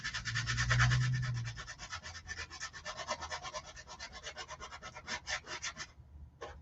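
Steady rhythmic rasping of sanding a junk journal cover, close and continuous for several seconds, with a faint low hum underneath, ending with a couple of short strokes.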